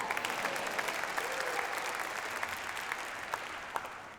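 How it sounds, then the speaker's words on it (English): An audience claps at the 2022 APRA Music Awards ceremony, a continuous, even wash of applause from a large crowd, heard at moderate level. "Now you can clap."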